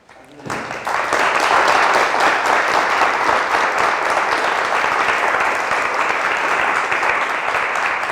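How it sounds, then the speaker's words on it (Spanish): An audience at a talk bursts into sustained applause after a brief quiet start, dense loud clapping that holds steady to the end. "pues daremos un aplauso"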